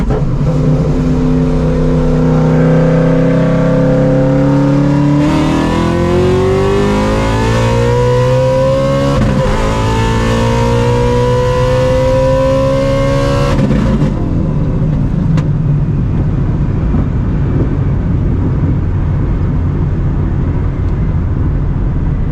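A supercharged Shelby GT350 makes hard pulls in third gear, its engine rising in pitch with a loud, screaming roar, a brief dip at a shift or lift, then a second rising pull before it eases off into a steady drone.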